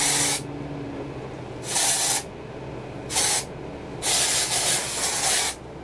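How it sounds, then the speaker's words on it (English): Batiste dry shampoo sprays onto hair in four distinct hissing bursts, short to longer, separated by quiet gaps, close and loud with no talking. "so Batiste dry shampoo, and that's just gonna take away the shine"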